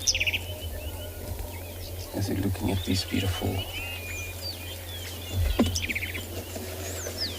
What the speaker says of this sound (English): Beautiful sound of the bird in the background as well